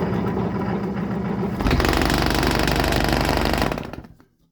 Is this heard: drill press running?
yes